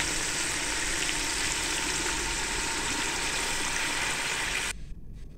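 Ginger frying with beef in a pot for golden beef yakhni pulao, a dense continuous sizzle heard close and steady for about five seconds before cutting off abruptly near the end.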